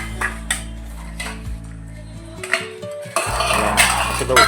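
A bowl handled in a home kitchen, close clinks and knocks of dishes and metal utensils over a steady low hum, with a louder clattering burst toward the end.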